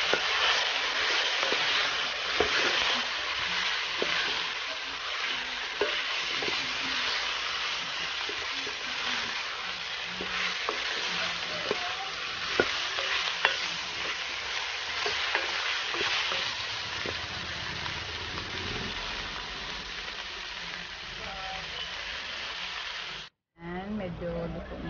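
Chayote (sayote) sizzles and fries in a pan as it is stirred, a constant crackling hiss with occasional scrapes, close and steady throughout while someone talks over it.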